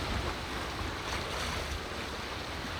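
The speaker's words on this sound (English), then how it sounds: "the sea is very rough right here, so very, very rough" Rough sea on a Jamaican shoreline, with waves surging and crashing in a continuous loud wash, mixed with gusty wind buffeting the microphone and no speech.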